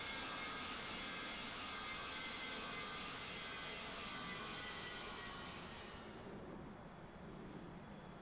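A simulated airliner taxis to parking at London Heathrow in the Infinite Flight game. A steady broadband jet engine roar holds throughout, then softens slightly near the end, with no speech.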